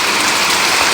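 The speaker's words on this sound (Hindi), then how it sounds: "ये बारिश में देखो इस साइड आ रही है अब।" Heavy rain pours steadily in an Uttarakhand mountain village, a dense, continuous hiss of drops on surfaces with no breaks, loud and close.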